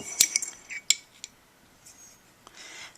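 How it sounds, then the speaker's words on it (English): A metal spoon clinking against a glass of water while stirring in salt, a few bright close taps early on, then quieter scraping and a faint swirl, no talking. "Then we'll mix and we'll see which dissolves better"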